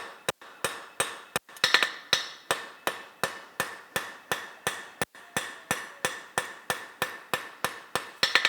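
Steady, evenly paced hammer blows ring out on a horseshoe being shaped, about three strikes per second, sharp metallic clanks close by with a brief pause partway through.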